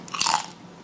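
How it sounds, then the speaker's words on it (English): A single close, crisp bite into the crunchy crackling skin of a roasted German pork hock (Schweinshaxe), a sharp brittle crunch lasting about half a second, then fading to quiet. "I have to try a piece of the crunchy skin though."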